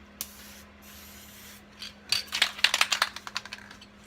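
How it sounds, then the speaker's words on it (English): A can of spray adhesive sputters out in short, uneven bursts after a faint hiss, close and fairly loud, with rough crackling pulses rather than a smooth stream. "I'm getting kind of a terrible spray from this adhesive"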